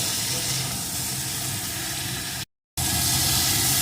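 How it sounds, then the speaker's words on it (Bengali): Fried cauliflower stalks sautéing in spiced masala make a steady, close sizzling hiss that runs continuously, broken once by a brief moment of complete silence before resuming. "এখন ভেজে রাখা ফুলকপির ডাঁটাগুলোকে এর ভিতরে দিয়ে দেব ডাঁটাগুলো একটু কষিয়ে নেবেন"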